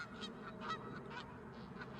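A Canada goose honks repeatedly in a steady run of nasal calls, moderately loud and alone, with no talking.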